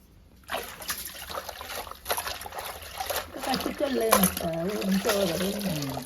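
Wild leafy bharangi greens being washed in water, with soft trickling and sloshing that runs steadily for several seconds at moderate level, plus what may be a faint voice in the background.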